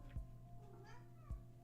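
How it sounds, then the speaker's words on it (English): A pet cat meows twice, faint and brief, each call separated by about a second of quiet room tone. "meow? My cat."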